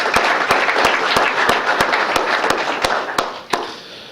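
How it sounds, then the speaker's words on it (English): An audience applauds steadily for several seconds, a dense wash of clapping that thins out toward the end, with sharp regular clicks running throughout. "So round of applause for those individuals."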